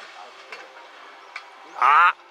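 A Honda Fit car on a racetrack gives off an odd, strained noise, heard as a loud grinding whine that swells near the end of the passage above a low running drone, with faint brief clicks earlier.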